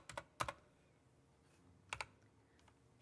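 Quick bursts of typing on a computer keyboard, a few sharp clustered clicks separated by pauses, close and fairly quiet with no speech.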